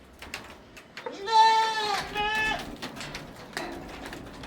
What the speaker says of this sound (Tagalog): Ang laki ng kambing na to.